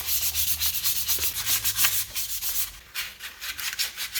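A car brake caliper is sanded by hand before painting, making a steady, close rasping scrape in repeated back-and-forth strokes with no talking.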